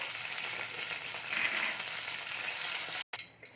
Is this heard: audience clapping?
no